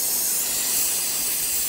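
Steam vents from a rocket stove steam generator with a loud, steady, close hiss that stays even throughout.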